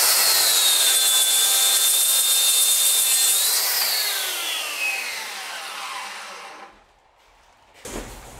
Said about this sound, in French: Place à la scie plongeante.